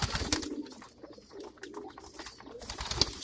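Pigeons coo inside a loft coop housing white-bar and black-bar birds, soft repeated throaty coos layered with occasional chirps and rustling, fairly close and steady with no talking.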